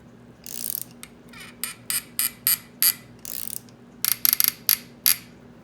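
Ratcheting clicks from a hand wrench threading cylinder studs into a Honda ATC 200x engine top end, a close, crisp series of short bursts in irregular groups, with no talk.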